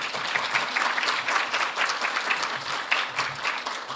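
A sustained round of audience applause after a talk at a global forum on innovation and governance, steady dense clapping filling the hall for the full stretch without any voice over it.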